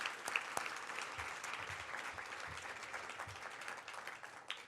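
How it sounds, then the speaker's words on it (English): At a Maine business Hall of Fame banquet, the audience gives its inductees a fairly distant, continuous round of applause with a few sharper claps, steady throughout and fading slightly at the end. "Let's give them all another round of applause."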